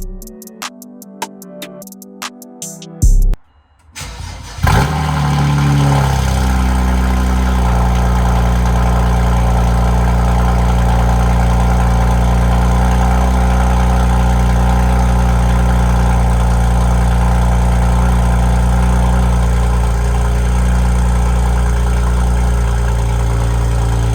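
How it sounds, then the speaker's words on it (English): A BMW N54 car with catless downpipes and a straight-piped race exhaust cranks and fires up with a loud roar, then settles into a deep, rumbling, very loud idle that holds steady throughout. "Car is extremely loud on startup."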